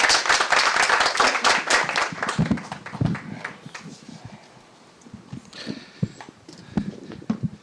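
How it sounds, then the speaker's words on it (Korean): An audience at a forum session claps to welcome a professor to the podium, brisk applause at first that thins into scattered claps and fades to a few isolated hand claps. "그럼 다시 한번 우리 이찬우 교수님을 박수로 모시도록 하겠습니다."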